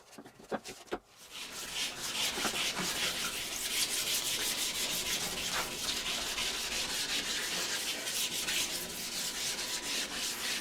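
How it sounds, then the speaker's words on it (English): Wet sanding with micro mesh across a resin and black walnut board, a close, steady rasping rub with rhythmic strokes after a few brief knocks at the start. "that was the last pass of the wet sanding with the micro mesh"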